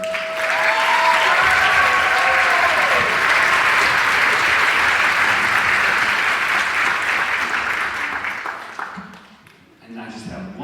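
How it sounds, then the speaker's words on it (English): A community concert audience applauds the students in steady, full clapping that holds for several seconds, then fades out near the end as a voice begins. "give a huge round of applause to the students"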